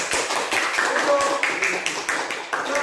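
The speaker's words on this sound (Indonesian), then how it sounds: "Tepuk tangan buat kawannya." Schoolchildren in a classroom clap for a classmate, a brisk patter of small hands with sharp individual taps standing out, close and fairly loud, ending after a few seconds.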